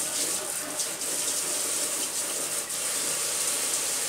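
Kitchen tap water runs into a pasta strainer, rinsing out tuna juice, a steady close-up splashing hiss that continues evenly without pause or talk.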